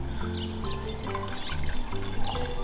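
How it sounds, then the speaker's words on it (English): Warm water is poured into a plastic bottle and shaken for an elephant toothpaste experiment, with a trickling, sloshing liquid sound under a faint steady hum. "add the warm water, shake it all up"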